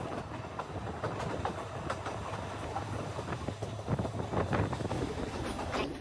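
A train runs on rails near Galboda station in Sri Lanka with steady rumble and rattle. Irregular clicks and clacks from the wheels sound throughout, at a moderate, even level with no voices.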